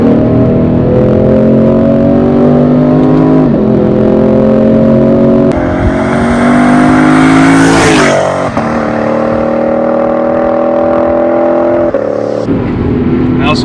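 A 2017 Lexus RC F V8 with an 8-speed automatic pulls hard from the cabin, revs climbing and dropping in quick steps as gears change, loud and steady throughout.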